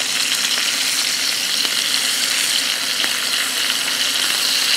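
Scallops sear in a hot pan, producing loud, continuous close-up sizzling with faint crackles throughout and no pauses.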